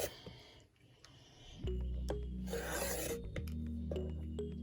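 Rotary cutter rasping through excess fabric pieces along a quilting ruler, a gritty scraping stroke, close and moderately loud over a steady low hum with small ticks and taps.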